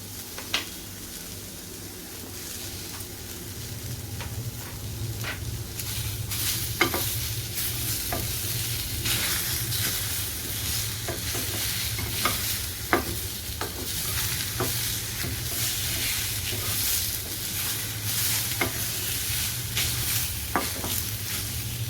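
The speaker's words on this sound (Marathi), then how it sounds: "आता टोमॅटो वगैरे आपले दोन मिनटं चांगलं परतून झालेलं आहे" Ginger, garlic and tomato sautéing in a pan on the stove for a drumstick and potato curry, with a continuous close sizzle and frequent sharp clicks of a spoon stirring against the pan, no voices.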